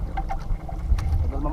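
A fishing boat's engine rumbles low and unevenly as it slowly winds down, close to the microphone, with wind buffeting and a voice speaking over it.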